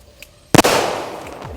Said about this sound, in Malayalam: അപ്പോൾ നമ്മുടെ സ്കൈ ഷോട്ട് നമ്മൾ കത്തിക്കൊണ്ടിരിക്കുകയാണ്